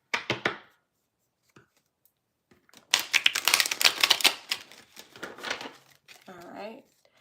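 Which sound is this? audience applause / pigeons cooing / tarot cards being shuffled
tarot cards being shuffled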